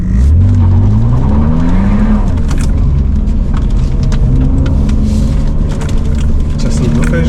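Car pulling away from the start line of a veterans' Christmas slalom on an outdoor course, engine rising in pitch through the gears, loud and close, with crowd noise and talk throughout.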